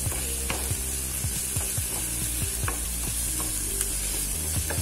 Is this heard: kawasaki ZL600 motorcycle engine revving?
no